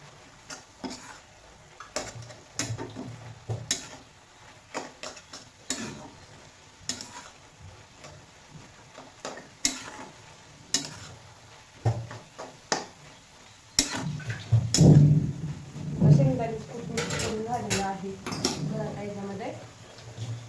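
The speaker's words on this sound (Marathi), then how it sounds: "आता हे बी चांगलं मिक्स करून घेऊया" A spoon stirs a dry palak bhaji, a spinach stir-fry, in a pan, giving sharp intermittent scrapes and clinks over a soft sizzle, with someone talking over the cooking.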